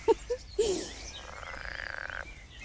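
Frogs croaking nearby outdoors, a few short separate croaks followed by a longer rapid trilling call, fairly faint against quiet background noise.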